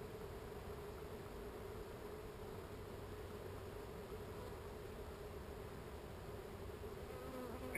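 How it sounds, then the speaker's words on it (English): Dense, steady buzzing of many bees crowding a beehive frame, a continuous close drone with no pauses and no talking. "one more frame that's got a lot of bees on"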